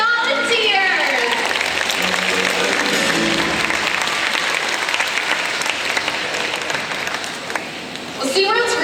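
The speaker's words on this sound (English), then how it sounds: "How about a big round of applause for our audience volunteers?" A large outdoor stadium crowd at a SeaWorld Orlando killer whale show claps loudly and steadily for audience volunteers, the dense applause sustained throughout, with a voice cutting in briefly near the end.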